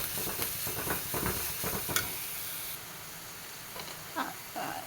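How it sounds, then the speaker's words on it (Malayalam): Ginger garlic paste sautéing in a pan for a chicken potato snack, a steady soft sizzle broken by a few stirring scrapes, the frying sound thinning out midway with only occasional light clatters afterward. "ഇതിലോട്ട് ഇഞ്ചി വെളുത്തുള്ളി പേസ്റ്റ് ഇട്ട് കൊടുക്കാം"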